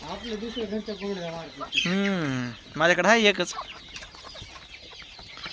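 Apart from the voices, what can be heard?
clucking of village chickens and rooster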